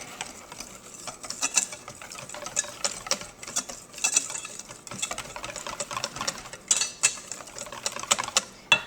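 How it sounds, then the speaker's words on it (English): German chocolate cake batter being mixed, likely with an electric mixer: a steady mechanical whir with rattling, uneven bursts, moderately close and alone without talk. "So we're going to mix this together."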